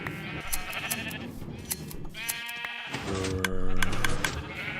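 Sheep bleating on a Minecraft-style wool farm in a video game, several separate bleats overlapping across the span, fairly close and clear with little else beneath.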